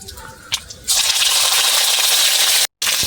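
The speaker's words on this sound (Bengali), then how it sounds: "এবার আমি এই বেটে রাখা মশলাটা দিয়ে দিচ্ছি।" Ground spice paste lands in hot oil that already holds five-spice and dried chili, setting off a loud, steady sizzle for about two seconds. A brief stir-scrape comes first, and there is a short break near the end.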